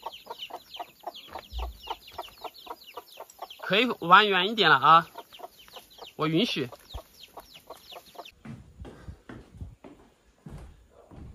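Lively young chicks peep in rapid, repeated high chirps near and far, joined by a hen's louder clucking bursts, while someone speaks briefly over them.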